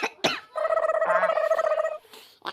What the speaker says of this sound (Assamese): কাহটো অকণ অকণ আহিছে